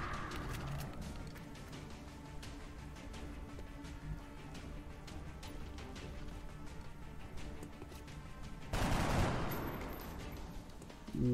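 Soldiers' weapons fire in X-COM Enemy Within, a busy run of rapid game gunshots and bursts at steady loudness, ending in a louder crash-like blast near the end.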